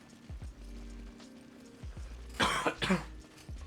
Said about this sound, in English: I'm also so sorry that I've been coughing so much.